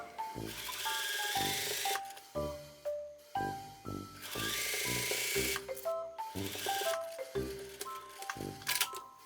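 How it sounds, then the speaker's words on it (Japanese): A sewing machine stitches a collar onto a kimono being remade into a tunic, running in short bursts separated by brief pauses, quiet and close with no talking. "中表にしてミシンでこの襟を縫い付けてみました。"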